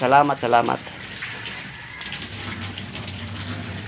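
A person speaks briefly in Filipino, then a strong, steady rush of water from a hose gushes continuously, moderately loud and close, while washing a car.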